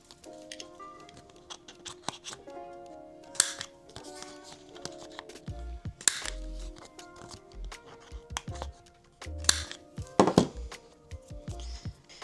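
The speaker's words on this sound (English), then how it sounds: "So I'm gonna have to clean these up quite a bit with the scissors." Scissors trim laminated paper bookmarks in short, sharp snips and crisp crackles, scattered irregularly over a quiet room with faint background tones.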